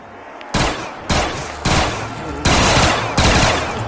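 Five loud, evenly spaced shots from the Knight pistol in a zombies game set in a pizzeria, each a sharp crack with a short tail, fired about every two-thirds of a second.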